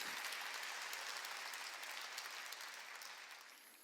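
Church congregation applauding during a Wednesday worship service, a steady wash of clapping that fills the room and gradually tapers off, with no voices over it.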